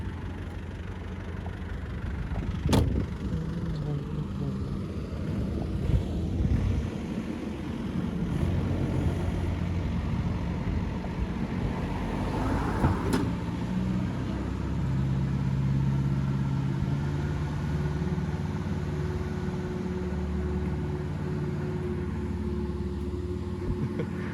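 A rare convertible Range Rover Classic turbo diesel runs in low range, its engine churning steadily and close with a low, uneven rumble and a few sharp knocks.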